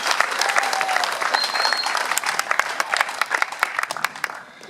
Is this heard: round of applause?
yes